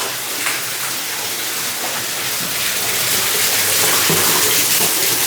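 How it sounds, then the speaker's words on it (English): Water gushes steadily from a burst pipe indoors, a loud, continuous broadband rush with splashing texture that swells slightly toward the end, with no talking over it. "the water's burst"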